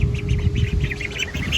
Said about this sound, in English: Usually let the ducks walk around and graze a little bit while I change all of their stuff